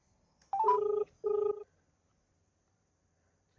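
Ringback tone of an outgoing phone call placed at midnight: two clear, evenly pulsed double-tone bursts close by, separated by a short gap, then quiet with no talking.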